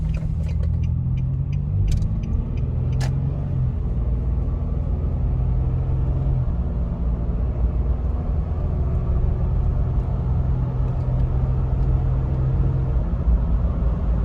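A Nissan Xterra drives on a rough road, heard from inside the cabin as a loud, steady low engine rumble and road drone, with a few light rattles early on.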